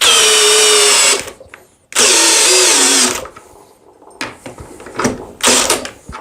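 Parkside PPBSA 20 Li cordless drill driving a large screw, loud whining bursts of about a second each, separated by short pauses and ending in sharper clicking, ratcheting stutters.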